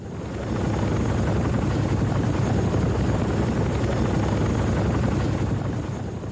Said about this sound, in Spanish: Un Chinook no transporta todo el cargamento en su interior